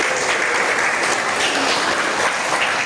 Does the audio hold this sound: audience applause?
yes